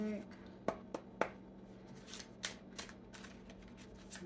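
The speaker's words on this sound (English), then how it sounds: "let me cut the deck" A deck of playing cards being cut and handled by hand, giving a few sharp, close card snaps and riffles spaced out over a faint steady background hum.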